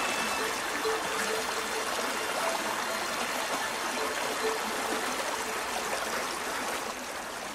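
A burn drains through farmland as a steady, soft rushing trickle of flowing water, continuous and even, fairly quiet with no voices.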